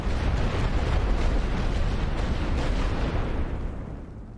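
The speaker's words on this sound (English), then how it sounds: "Just get a round of bombardment out there." Artillery bombardment in the World War I strategy game The Great War: Western Front, a dense continuous barrage of overlapping booms and blasts forming a heavy roar that fades near the end; no speech.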